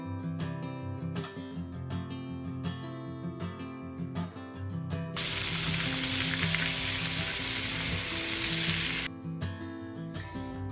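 Egg-and-flour-dipped ribeye pork chops frying in hot oil, a steady hiss that swells into a loud, dense sizzle for several seconds before settling back, with low background tones and no talk.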